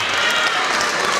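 Dense, loud audience applause for the seniors who performed in Mamma Mia, a continuous wash of many hands clapping in a high school awards hall.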